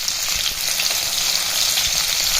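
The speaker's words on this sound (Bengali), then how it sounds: "দেখো মাছটা ভাজছি" A large fish head rubbed with salt and turmeric frying in smoking-hot oil, giving a loud, dense, continuous sizzle and crackle throughout, with no talking.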